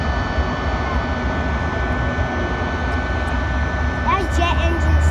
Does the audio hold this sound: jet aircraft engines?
yes